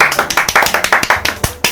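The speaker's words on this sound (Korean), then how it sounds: "오! 다들 박수!" A short burst of applause from a small group, quick uneven claps close by, lasting under two seconds with no talking.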